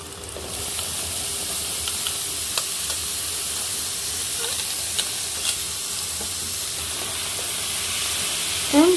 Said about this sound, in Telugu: ఉల్లిపాయ పచ్చిమిర్చి మంచిగా మగ్గించుకున్నాను ఇప్పుడు పొట్లకాయ ముక్కలు సన్నగా కట్ చేసుకున్నాను